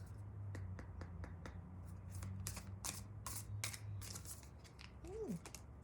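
Oracle cards are shuffled close by, a quick run of crisp riffling flicks and slaps that thickens into a dense flutter, with a faint low hum underneath and a brief murmur near the end.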